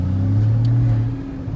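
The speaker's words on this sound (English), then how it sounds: "I'm going to throw it into Sport, not Sport Plus. Sport Plus is super fun, which also gives you the exhaust sounds the Sport mode does" A 2015 Porsche Cayman GTS in Sport mode drones with a loud, close engine and exhaust hum that holds steady, then eases off slightly toward the end, with no talk over it.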